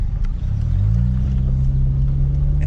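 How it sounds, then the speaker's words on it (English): A motorcycle passes on a road, its steady engine rumble rising in pitch and holding close over a continuous road drone, with no talk. "Oh, got a motorcycle."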